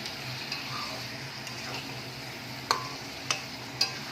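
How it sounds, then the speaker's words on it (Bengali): Bombay duck (loitta fish) stirred with spices in a pan, a soft steady sizzle under scattered light scraping taps, with three sharper utensil clicks near the end; no talking. "এবার মাছের সাথে ভালো করে আমি মশলাটাকে মিশিয়ে নেব"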